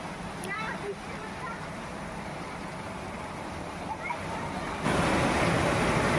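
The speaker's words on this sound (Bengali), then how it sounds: "ক্যানালের পাশ থেকে মাটি ধস খেয়ে জল কিভাবে বেরোচ্ছে দেখুন" Water gushes continuously out of a collapsed earthen canal bank in Kharagpur, a loud broad rushing roar that swells louder toward the end, with someone talking over it.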